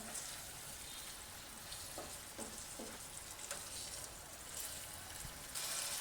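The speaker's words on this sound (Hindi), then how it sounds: "कीमा और कलेजी की बहुत मज़ेदार भुनाई हो रही है" Keema and chicken liver frying over high flame in a pan, a dense, steady hiss of sizzling oil with a few faint stirring knocks, quiet but continuous.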